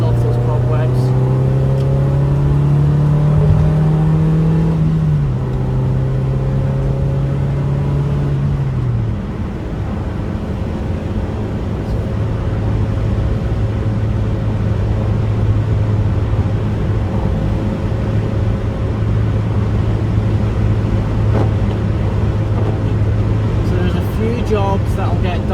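Engine drone from inside a 1998 MGF sports car on the road, a steady close hum whose pitch drops as it shifts gear, with road noise throughout and someone talking over it.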